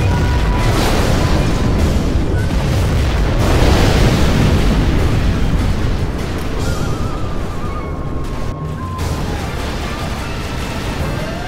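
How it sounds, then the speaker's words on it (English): A nuclear missile detonation in Command & Conquer Generals Zero Hour: a long, loud, continuous roaring rumble of explosion that swells and then slowly fades, with faint tonal game sounds underneath. "We have launched our nuclear missile."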